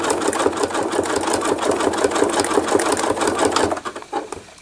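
A sewing machine stitching free motion embroidery for thread art, a fast steady rattle of needle strokes, close and loud, slowing and stopping near the end.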